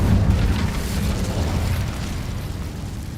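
Incendio fire spell cast in Hogwarts Legacy on PS5: a burst of fiery whoosh and rumbling boom that starts loud and slowly fades over a few seconds.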